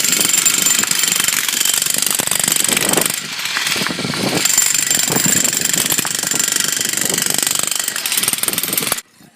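Municipal workers break up and lift cobblestone paving in a town square, with loud, continuous jackhammer-like hammering and machinery noise running nearly throughout before cutting off at the end.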